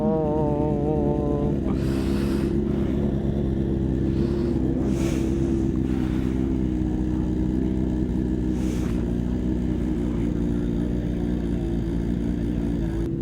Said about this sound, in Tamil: அந்த சைடு பார்த்தா கவாசாகி கத்துது.